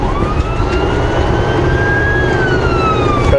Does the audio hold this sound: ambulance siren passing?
yes